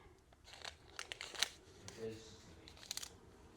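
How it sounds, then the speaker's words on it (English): A plastic sheet rustles and crinkles as it is slid under a sashiko quilt on an ironing surface, several soft crackling handling bursts close by with faint background talk. "I'm going to put the plastic sheet so it's underneath it"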